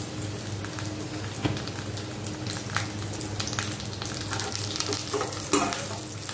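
Steady sizzling and crackling of food frying in a hot pan, with occasional stirring scrapes; close and continuous, no voices.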